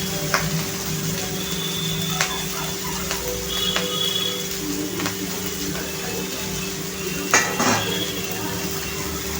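Chigal greens go into a pan of chili and garlic sautéed in oil, with light sizzling under scattered clinks and scrapes of a spoon against metal cookware.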